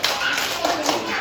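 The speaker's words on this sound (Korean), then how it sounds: "자, 집중의 박수를." Children at an elementary summer Bible school clap together in unison, a dense, close burst of many hands lasting about a second.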